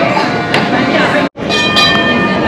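Tram running directly along a busy street in Christchurch, a loud, close rumble with rail squeal and metallic tones, briefly cut off, then continuing as it passes.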